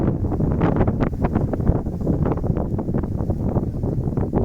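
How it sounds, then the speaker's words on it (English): Wind blows hard into the microphone in the cold outdoors, a loud continuous buffeting rumble with rapid gusty thumps and no speech. "the wind and the cold definitely cut through us for sure"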